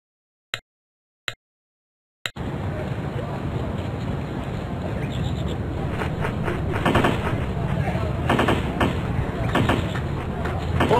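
Gunfire from the video game Damn Birds 2: three sharp isolated shots, then a dense continuous barrage of rapid fire with a steady rumbling bed running to the end.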